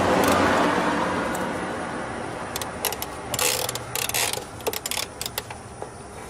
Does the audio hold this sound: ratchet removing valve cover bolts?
yes